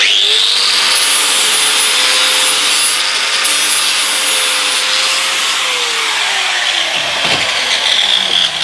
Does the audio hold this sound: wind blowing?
no